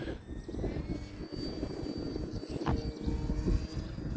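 An Avios Zazzy RC airplane flies in windy conditions, its small motor giving a steady, distant drone under a rumble of wind buffeting the microphone, with no voices.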